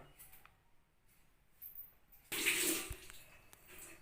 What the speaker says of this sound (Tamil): இப்போ இந்த மாதிரி அகலமான பாத்திரத்தில் தண்ணியை எடுத்துக்கலாம்